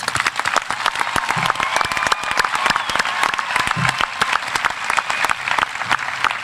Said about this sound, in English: Could we give our seniors a round of applause?